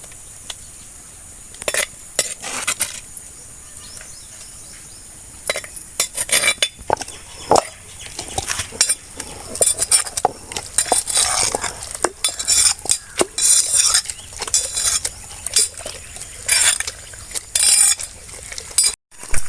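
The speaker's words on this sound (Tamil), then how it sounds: "நம்ம இப்போ உரலை போட்டு ஆட்டிக்கலாம்" Sautéed black nightshade greens (manathakkali keerai) being ground in a stone mortar: quiet at first, then a close run of irregular scraping, knocking and gritty rubbing strokes that grows busier toward the end.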